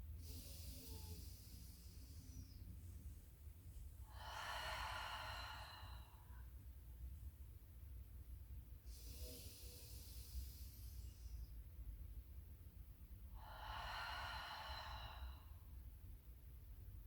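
Slow, deep breaths during a somatic breathing exercise, with three long airy inhales or exhales spaced several seconds apart, quiet and close against a low background hum.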